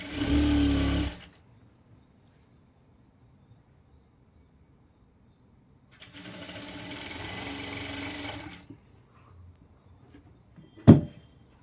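A sewing machine stitching a fall onto a golden saree runs in two short bursts, loud and close, separated by quiet pauses, followed by a brief sharp knock.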